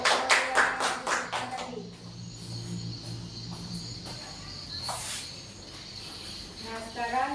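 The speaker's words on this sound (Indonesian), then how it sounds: "Nah, kita kasih tepuk tangan dulu." A class of schoolchildren claps hands in a burst of quick, crisp applause at the start that fades within two seconds, followed by quieter room murmur and a few faint scattered claps.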